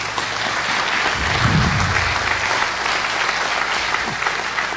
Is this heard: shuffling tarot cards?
no